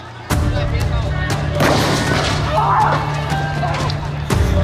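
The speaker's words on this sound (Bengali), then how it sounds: "ঠিক তারা সেই উদ্দেশ্যে আবার আমাদেরকে গুলি করে।" Gunfire as police shoot at protesters during a street clash, with loud sharp reports at the start and end over a sustained roar of crowd noise and shouting.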